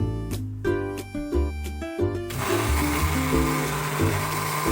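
A kitchen blender whirring as it mixes sesame paste with oil into Chinese sesame sauce. The motor hums with shifting pitch, then turns rougher and noisier as the thick mixture churns, and runs close up with no talk.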